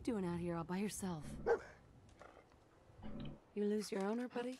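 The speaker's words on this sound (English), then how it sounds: "Oh my god, I got a dog." Dog barking in the Fallout video game, a few sharp barks with whimpering tones mixed in, heard alongside a person talking.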